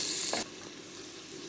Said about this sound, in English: my little one here is stirring the garlic